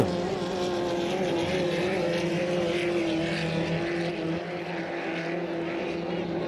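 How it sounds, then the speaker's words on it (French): Steady, loud drone of 2.5 litre racing motorboats rounding a turn on a lake course at St-Félicien, engines whining continuously throughout with no break. "L'embarcation orangée de Robertson. L'embarcation noire de Kennedy. On est dans le virage numéro 2"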